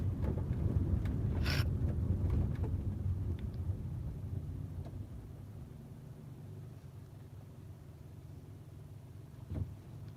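A car drives along with a steady low road rumble and wind noise, loudest at first and easing slightly, with a few faint knocks and a brief thump near the end.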